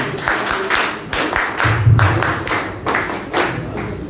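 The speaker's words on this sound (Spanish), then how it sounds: "Enrique Melgar Moscoso, a quien recibimos con fuertes palmas, por favor." Applause from an audience at a public meeting on citizen security proposals, a burst of many hands clapping with uneven, crowded rhythm that carries on for several seconds.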